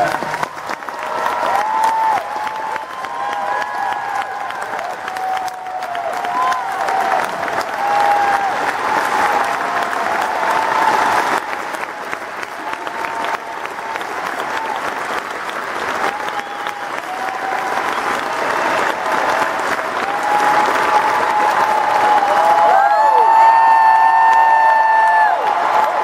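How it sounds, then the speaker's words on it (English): Loud, sustained applause and cheering from a crowd at the Baylor Lady Bears 2012 NCAA championship celebration in Waco, Texas, rolling on for the whole stretch with scattered whoops and a brief tonal sound near the end. "let's give her a big round of applause for that."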